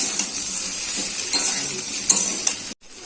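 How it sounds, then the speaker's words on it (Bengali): Vegetables with green chilli, salt and turmeric fry in a pan for a drumstick-and-fish curry, a steady close sizzle broken by scraping stirs and light utensil clinks, then a sudden cut to near silence. "আর একটু ভেজে নেব।"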